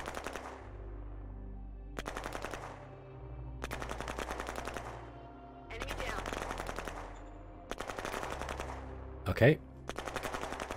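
Repeated bursts of automatic gunfire in the strategy video game Shadow Empire, four or five sustained rattling volleys separated by brief pauses, with a short sharp blast near the end and a brief spoken word.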